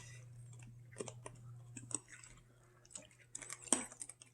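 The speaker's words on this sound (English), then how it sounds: "You still chewing?" Someone chewing candied grapes, with faint, irregular crunchy mouth clicks and squishes close to the mic over a low steady hum, no talking.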